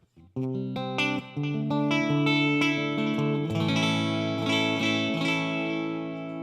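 An electric guitar plays clean chords through a Super Reverb amplifier, strummed notes ringing out with reverb tails and building in loudness, no talking.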